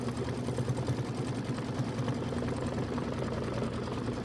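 An embroidery machine stitches the body tack-down line on a small quilt, a steady, fast mechanical whir and rattle running unbroken and fairly faint throughout, with no talking.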